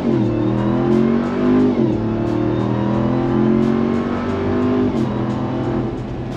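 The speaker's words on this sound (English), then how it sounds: "that was an acceleration with the valves closed" A 2021 Ram TRX with QTP exhaust cutout valves closed accelerates hard, its engine droning loud and steady from inside as the pitch climbs through gear shifts, muffled and deep.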